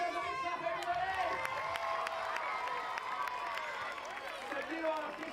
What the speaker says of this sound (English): Give yourselves a big clap, everybody.